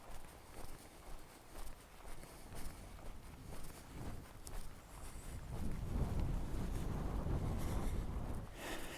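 Wind gusting across a snowy high plateau on a desert canyon trail, a rough broadband rush that swells and buffets the microphone, growing louder and steadier in the second half, with faint crunching footsteps underneath.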